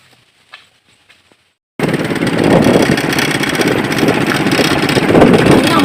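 A motorcycle engine bursts in loud and close after near silence, then keeps running with a steady, rough drone until the end.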